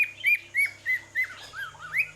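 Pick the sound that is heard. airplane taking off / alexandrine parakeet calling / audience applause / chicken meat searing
alexandrine parakeet calling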